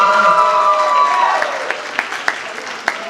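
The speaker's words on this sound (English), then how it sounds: "Okay, let's give Alejandro some applause." Applause for a student at an academic scholarship awards program, starting as a smooth wash behind a sustained tone, then thinning to scattered, distinct claps that fade toward the end.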